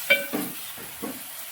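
Onion and tomato frying for a mutton curry are stirred in a pan, giving a few soft, brief scrapes over a faint sizzle.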